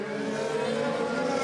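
Onboard a Renault Formula 1 car, the engine wails in a high, continuous tone that climbs steadily as it accelerates, loud and close for a brief stretch.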